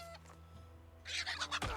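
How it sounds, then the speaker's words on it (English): Small chicken in the RuneScape video game clucking in a few quick, close bursts after a quiet stretch, over a low steady game music drone, with no talk. "Hello, little chicken."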